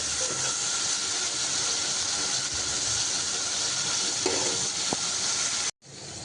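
Spice paste fries in a pan with a little water added, giving a loud steady sizzle and hiss with faint stirring scrapes that cuts off abruptly near the end.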